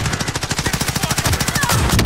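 Rapid automatic gunfire in the video game Call of Duty: Modern Warfare, a loud, dense stream of shots in quick even rhythm lasting about two seconds.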